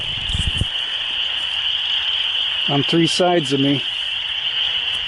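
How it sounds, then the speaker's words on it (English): Frogs croak at night in a dense thicket, a cluster of throaty calls rising over a constant high trilling chorus. A person speaks briefly at the start. "But with this frog racket"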